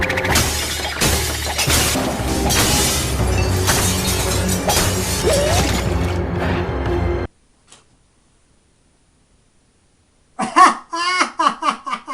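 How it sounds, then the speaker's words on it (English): Cartoon sound effect of records being smashed in a retelling of the three bears tale, a dense, loud burst of crashing and shattering for about seven seconds, then silence, then brief squeaky vocal noises. "records have been smashed"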